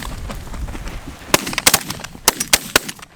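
Shotgun blasts ring out during an opening-day goose hunt, about six sharp, loud reports fired in quick succession, some nearly overlapping, over outdoor background noise.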